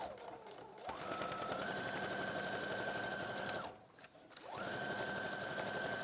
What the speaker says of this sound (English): we're just going to sew across the top to secure as one piece of fabric